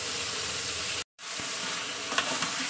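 Chicken and potato pieces frying in hot oil for chicken kosha, a loud, steady close sizzle with a brief cut and faint stirring clinks.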